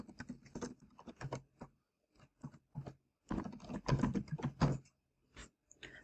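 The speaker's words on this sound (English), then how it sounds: "in the web address bar type in primevideo.com" Quiet typing on a computer keyboard comes in irregular clusters of soft clicks with short pauses between bursts.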